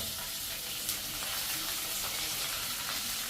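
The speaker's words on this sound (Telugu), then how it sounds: "ఇప్పుడు ఈ వేగిన పోపులో మనం తరిగేసి పెట్టుకున్న బచ్చల కూర వేసేసేయాలి." Chopped Malabar spinach drops into hot oil tempered with green and dried chillies, giving a steady, dense sizzle and hiss at close range that holds even throughout, with no talking.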